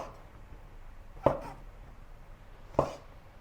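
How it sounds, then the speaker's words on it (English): Knife cutting a king oyster mushroom into half- to one-inch cubes on a board, three sharp separate chops spaced over a quiet background, close and distinct. "Cut the mushroom into cubes about 1/2 to 1 inch."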